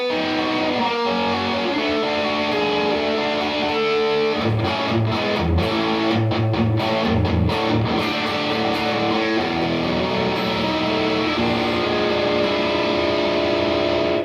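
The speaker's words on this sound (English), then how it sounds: "So that's a chord with a lot of distortion on it" Electric guitar fitted with a Floyd Rose tremolo and Railhammer pickups plays a heavily distorted chord, with a few choppy restrikes near the middle, then rings out in a long sustained, thick, buzzing decay.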